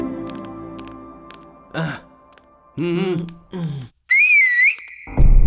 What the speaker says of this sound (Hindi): सीटी मार के बुलाता